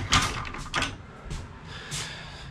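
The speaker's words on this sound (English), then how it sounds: "Pocket door into the back." A pocket door in a 2020 Forest River FR3 30DS Class A motor home slides with a few quick, close scrapes and light knocks, then a softer rolling swish.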